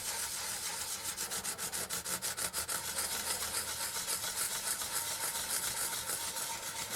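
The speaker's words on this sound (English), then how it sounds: "I'm going to move over to a piece of sandpaper that's got a little more life in it." Sandpaper rubs on the body of a 1961 Gibson SG Reissue guitar, a quiet, close, raspy scratching in quick back-and-forth strokes that keep an even rhythm throughout.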